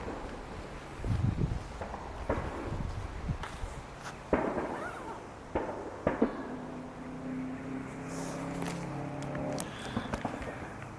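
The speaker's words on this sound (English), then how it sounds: "I can't tell if that's gunshots or fireworks. I'm hoping it's fireworks." Fireworks bursting at a distance around a nighttime campsite, scattered sharp pops and thuds at irregular intervals over a low, quiet outdoor background, faint and not close.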